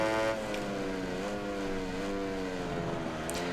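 A MotoGP 19 racing motorcycle engine in the video game revs high and steady through a massive wheelie, a sustained whining tone with slight pitch rises and dips, close and continuous.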